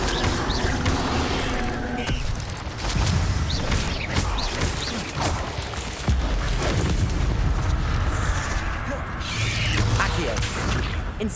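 Fiery spell blasts in a Hogwarts Legacy battle against spiders, loud whooshing bursts and booms repeating over a dense, continuous wash of combat noise and music, with a voice speaking in places.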